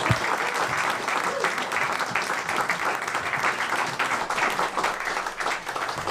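Hearty audience applause welcomes an acoustic American guitarist on stage at a St. Louis concert, dense continuous clapping from a full room, steady and fairly loud.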